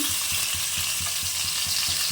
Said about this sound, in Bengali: মাছটা আমি কড়া করেই ভাজবো